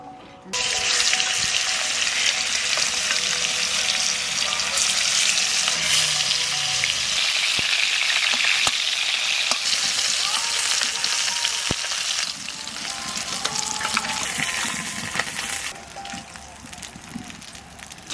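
Potatoes fry in a pan with a loud, continuous sizzle while being stirred, a dense close hiss with occasional scraping that eases slightly toward the end.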